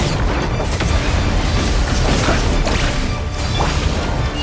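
Bombs going off in the video game Genshin Impact, a dense, loud run of booming blasts and crashes layered over one another with no pauses.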